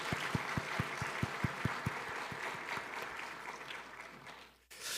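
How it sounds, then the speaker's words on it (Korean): A church congregation at an early-morning New Year prayer service claps in encouragement. Evenly spaced claps come first, then loosen into a softer, scattered applause that fades before cutting off abruptly. "이 시간 우리 청소년들 잘 다녀오라고 격려의 박수 한번."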